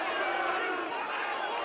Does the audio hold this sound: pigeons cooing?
no